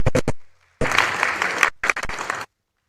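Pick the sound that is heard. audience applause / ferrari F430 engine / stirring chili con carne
audience applause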